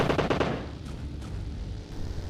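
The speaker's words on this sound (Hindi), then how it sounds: "यहाँ स्टेडियम में कुछ गोलाबारी होती है। देखा बंदे गोली चलाते हैं" Gunfire near a stadium in an online shooter game, a rapid burst of close, loud shots followed by fainter scattered reports against a steady rumble.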